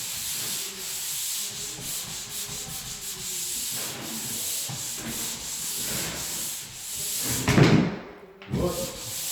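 Sandpaper rubs across a wall up in a high area in steady, close scraping strokes that run almost continuously, with a louder burst of rubbing near the end.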